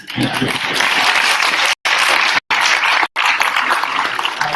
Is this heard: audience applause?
yes